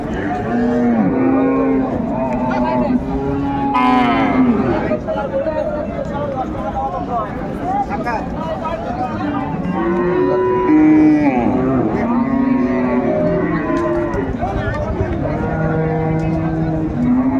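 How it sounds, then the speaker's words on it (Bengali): At a busy rural cattle market in Dinajpur, cows and calves moo again and again, some low and drawn out, close and steady amid a crowd's constant chatter. "বেশ সুন্দর গাভী বাছুর আমরা দেখছিলাম"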